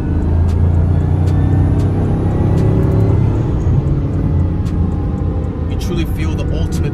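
A Bugatti Chiron Super Sport, 1600 hp, gives a loud, sustained low engine roar with turbo whine, steady for the whole stretch, while people talk over it in bursts near the end.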